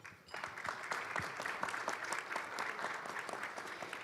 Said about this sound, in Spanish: Gabriela Roca, vicepresidenta de Fundesa, para quien pido un fuerte aplauso